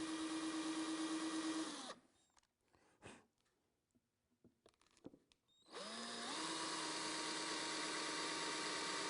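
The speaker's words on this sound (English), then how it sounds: "I drill through from the front." Electric drill whining at steady speed as it drills through wood for a small cabinet, stopping for a few seconds of quiet knocks and handling, then spinning back up again; close, no speech.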